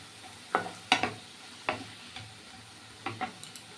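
Mixed vegetables and two green chillies sizzle in a pan for a Bengali vegetarian dish, with a spatula stirring and scraping in a few sharp strokes over a soft, constant fry.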